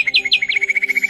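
Birds chirp at Karnala bird sanctuary, a rapid, regular run of bright high tweets repeating close and clear, with a few sharper rising notes at the start and no talk.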